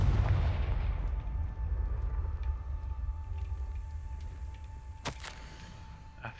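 A Confringo blasting spell goes off in Hogwarts Legacy with a heavy low boom that rumbles and slowly fades, followed by a sharp crack near the end.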